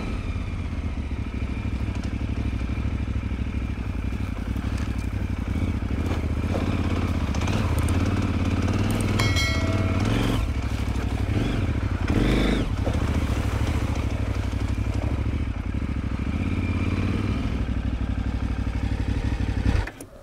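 A KTM 990 motorcycle rides steadily through the countryside, its engine note loud and continuous with wind rush and occasional rises in revs throughout, with no talk.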